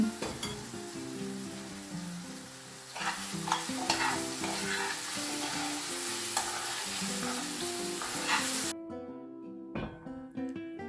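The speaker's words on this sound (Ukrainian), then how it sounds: "А в цій сковорідці у мене смажаться грибочки." Mushrooms sizzle and crackle steadily in oil in a hot pan, with occasional stirring scrapes, before the frying cuts out near the end.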